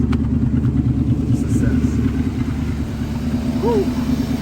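A 1984 Mercedes 500SEC engine, just repaired after a bad idle and stalling, holds a steady low idle throughout, a continuous close rumble with faint background sounds and no talk.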